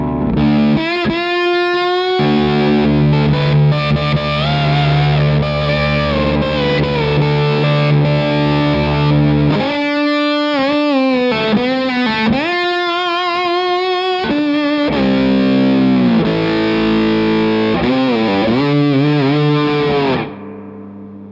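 Electric guitar through an Analogwise Skyrocket fuzz pedal set for a fatter tone, playing loud sustained saturated notes and slide-like gliding phrases for about twenty seconds, thick and woolly, with no talking.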